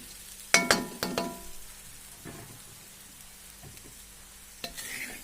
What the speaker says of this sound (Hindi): धीरे धीरे मिक्स करेंगे ताकि सारा अच्छी तरह मिक्स हो जाए।